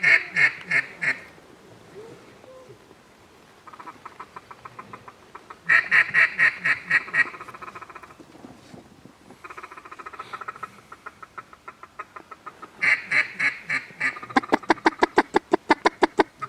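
Loud, nasal mallard duck quacks in repeated bursts, with softer chattering calls between them and a rapid series of quacks near the end, close by, on a shallow river.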